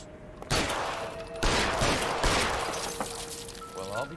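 Gunfire in the video game L.A. Noire: several loud, sharp shots ring out close by at irregular intervals, each trailing a short echo, followed by a faint mechanical rattle near the end.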